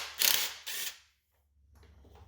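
Two short, loud bursts from an impact wrench loosening the differential cover bolts on a Nissan, each roughly a quarter second long, followed by a brief silence and then faint mechanical rattling.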